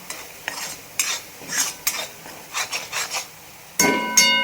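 Masala spices being roasted in a pan and stirred with a spoon, repeated scraping strokes in an uneven rhythm over a light sizzle, close, ending with a couple of sharper metallic clinks.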